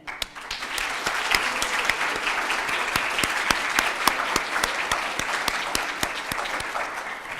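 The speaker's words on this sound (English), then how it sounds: "But let's start with applauding our honorees for today." Audience applause for honorees at a university education awards ceremony, steady and fairly loud clapping sustained throughout with a few sharper individual claps standing out.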